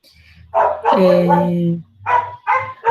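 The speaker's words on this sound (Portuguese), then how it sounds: "o cachorro da minha vizinha já começou. Incrível. É só eu sentar no meu computador que ele começa a latir." A neighbour's dog barks in several loud, close bursts, including one longer drawn-out yelp, with short pauses between them and no one talking.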